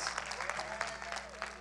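Church congregation applauding Pastor Rogers at a prayer service, a steady wash of clapping from many hands that holds for the whole moment without gaps.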